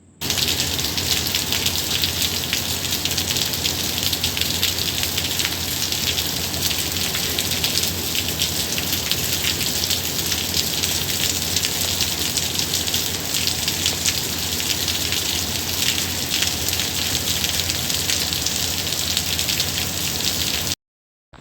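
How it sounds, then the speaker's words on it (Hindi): Heavy rain pours steadily and loudly on a morning, a dense unbroken hiss of falling water with no voices. "बारिश की आवाज़ सुनिए।"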